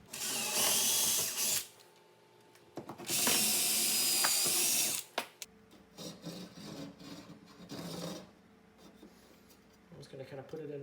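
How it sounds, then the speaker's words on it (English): A power drill with a wood bit pre-drills a pilot hole in wood for a lag screw while a microwave is being installed. Two loud, close bursts of whirring drilling are separated by quieter handling and knocking, with a brief voice in between. "So I'm going to go with this size drill bit here. Pre-drill this so it goes in a lot easier."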